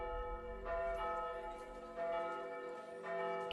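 A church bell in a TV show tolls in three slow, resonant strikes, each ringing on with a long humming decay, fairly loud and heard alone.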